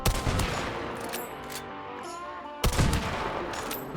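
Gunfire in the video game Hunt: Showdown: two sharp, loud shots about two and a half seconds apart, each followed by a ringing, decaying echo.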